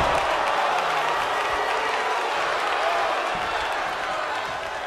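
A dense video-game crowd roars and claps continuously at moderate volume, a wash of cheering and applause with no pauses.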